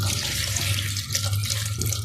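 Water from a glass pours steadily into a blender jar in a home kitchen while onions are prepared for an egg and potato curry, a continuous close splashing stream with no talk.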